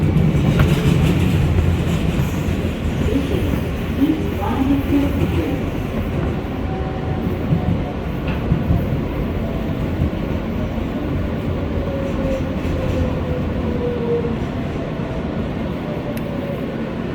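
An R143 L train on the New York City subway rolls along the tracks bound for Rockaway Parkway, giving a loud, steady rumble with rail clatter and a faint rising whine throughout, with no talk.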